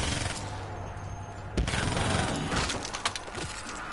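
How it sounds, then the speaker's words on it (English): A bright explosion hits with a sharp, loud burst partway through, followed by a stretch of crackling, splintering debris and scattered pops over a rumbling background. "That explosion is very bright."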